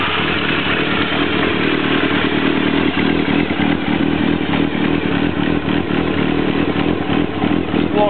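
A 2000 Kawasaki ZR-7 motorcycle fitted with a Jardine RT1 exhaust idles and revs close by, its steady, rough engine note running throughout with a clattering pulse and no speech.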